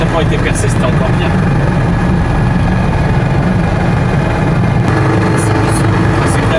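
A Citroën Dyane engine runs with a newly replaced exhaust, a loud, steady low drone that holds without a break throughout.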